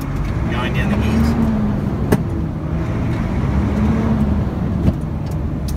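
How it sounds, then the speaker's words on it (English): A truck with a Roadranger gearbox idles and revs lightly, a steady low diesel drone with two brief engine swells, heard close from inside the cab. "Engine low, just need a little rev."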